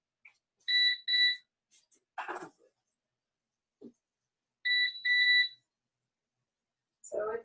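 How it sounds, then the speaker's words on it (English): A kitchen timer alarm rings in two bursts of sharp, rapid high beeping near the microphone, separated by silence and brief talk. "I'm going to turn the timer off"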